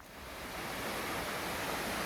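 A waterfall on the Pacific Crest Trail rushes in a steady broadband roar that swells slightly at first as the listener approaches, then holds at moderate level with no talk.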